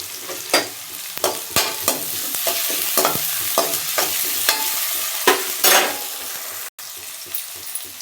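Ginger garlic paste fries and gets stirred in a pan for mutton chukka, with a continuous close sizzle broken by repeated scraping strokes of a spoon against the pan and no talking.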